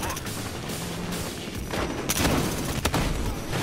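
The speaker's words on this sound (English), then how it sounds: "He shot me with a shotgun" Shotgun blasts in the game Battlefield Hardline, several sharp reports around a dense, noisy battle mix with other gunfire, the loudest shots landing late and close.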